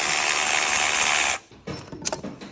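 A power tool spins loudly and steadily for just over a second while taking out the last drive shaft bolt on a car, then stops sharply, followed by faint metallic clinks and handling noises.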